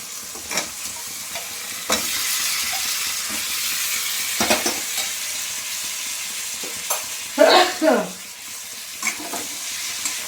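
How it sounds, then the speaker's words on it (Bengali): Boiled potatoes being stirred into a pan of fried pointed gourd, onion, spices and prawns: a steady sizzle with scraping stirs and occasional louder clatters, with no talking. "এবার আলুগুলো দিয়ে কষিয়ে নেব।"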